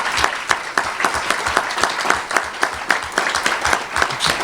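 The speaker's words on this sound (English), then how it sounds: "let's give them some applause, please." Audience applause at a county candidate forum hosted by a coastal realtors association, a steady wash of many hands clapping throughout, moderately loud and sustained with no talk over it.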